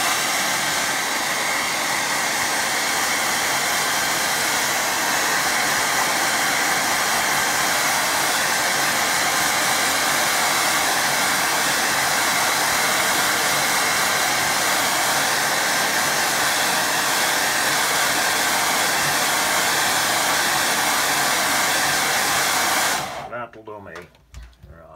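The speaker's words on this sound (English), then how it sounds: "Let me get a dryer on it." A hair dryer drying watercolour paint blows continuously at close range, a loud steady whirring hiss lasting over twenty seconds before abruptly switching off.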